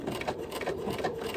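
A sewing machine runs a decorative stipple stitch through fabric, building a flower center. It hums steadily and close by, with a fine rapid needle patter throughout and no talking.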